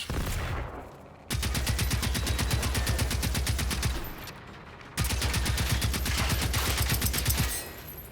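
A gun fires in the Generation Zero video game in two long, rapid automatic bursts, loud and close, separated by a short pause.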